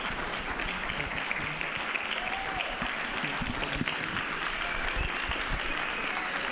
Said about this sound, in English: keep giving them a round of applause